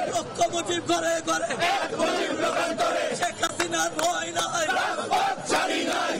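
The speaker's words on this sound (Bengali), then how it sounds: "নেতাকর্মীরা এক দফার বিরুদ্ধে স্লোগান দেয়।" Awami League volunteer activists chant slogans in unison at a street procession at Russell Square, a dense crowd of loud, rhythmic shouting that carries throughout.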